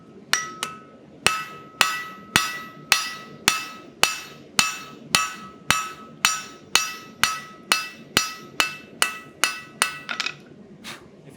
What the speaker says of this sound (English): If you listen to how quick the hammer, the dings of the hammer are between each stroke